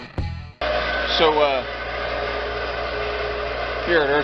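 A motor-driven wire wheel cleans engine parts in a monster truck shop, holding a steady, loud whirring drone after a short clatter at the start. Brief voices break in over it twice.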